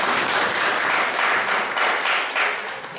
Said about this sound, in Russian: Ей аплодисменты